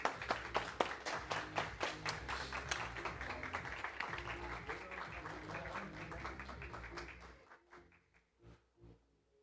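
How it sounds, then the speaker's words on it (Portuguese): Audience applause after a lecture by Dieter Borgert at the Novale Experience 2024 event, a dense burst of clapping that runs for several seconds, then thins out into a few scattered claps and dies away. "Uma salva de palmas, pessoal."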